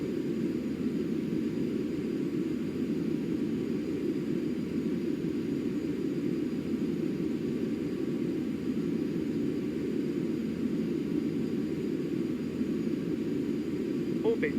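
A steady jet engine drone in flight, from Microsoft Flight Simulator X, fills the cockpit as a constant low rumbling hum with no change throughout.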